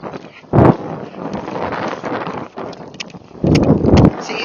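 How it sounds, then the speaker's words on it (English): A Tennessee Walking Horse moves around an indoor arena, its hoofbeats thudding in uneven bursts under steady wind noise against the microphone. "So I'm going to canter again, canter."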